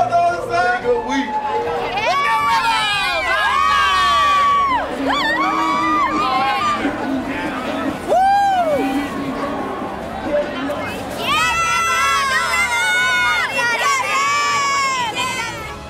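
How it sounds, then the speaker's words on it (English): A standing-room-only crowd cheers at an Ole Miss football game, with loud whoops, shouts and chanting voices rising and falling over a constant roar of the stands. "a standing room only crowd greeted the Rebels"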